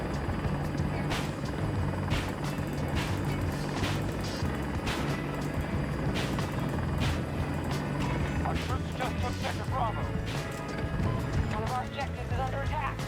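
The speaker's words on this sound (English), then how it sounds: "I will say that flying the choppers in the game" Military helicopter flown from first person in the shooter game Battlefield 2042, a steady rotor and engine drone with mechanical clatter running throughout, under a voice talking.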